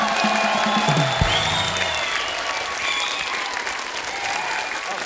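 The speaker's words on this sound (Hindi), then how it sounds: "जोरदार तालियां" A studio audience at a comedy show applauds a comedian's performance with steady, dense clapping that fills the room throughout, and a few cheers rise from the crowd.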